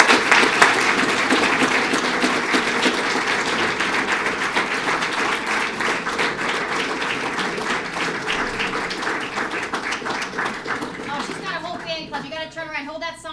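Sustained applause and cheering from a crowd at a police swearing-in ceremony for a new officer, steady and dense for most of the stretch, then thinning into scattered claps and voices at the end.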